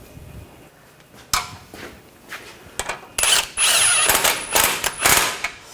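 A bolt on a strut bracket of a Nissan Rogue is snugged down, heard as short bursts of power-tool whirring and metallic clicks and clanks, loudest near the end, with quieter handling noises between.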